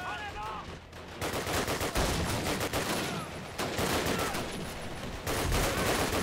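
Rapid enemy gunfire in the World War II shooter Call of Duty, at the Ponyri battle, crackles in dense bursts and volleys throughout, loud and continuous with no pause.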